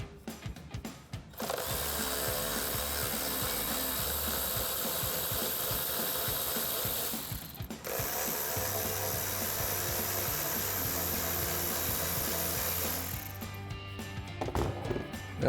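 Ratchet and power driver spinning off 10mm nuts from engine studs on a 2018-2023 Mustang GT, a steady buzzing run with a brief pause, then a second long run, fairly close and without talk.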